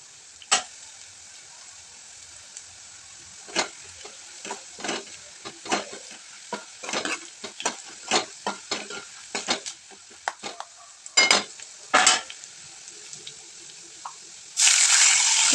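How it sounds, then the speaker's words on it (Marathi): Chana dal and peanuts frying in oil for upma, with a low sizzle under a series of sharp scraping stirs and ladle clicks, irregular and close, growing busier toward the end. "डाळवा आणि शेंगदाणे पण आपल्याला छान असं तळून घ्यायचे"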